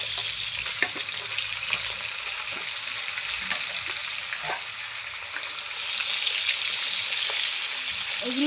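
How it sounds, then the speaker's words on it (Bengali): Pieces of shankar fish fry in oil in a wok, producing a loud, continuous crackling sizzle with scattered pops and light stirring taps, no talking. "মাছগুলো লাল লাল করে ভেজে নেব"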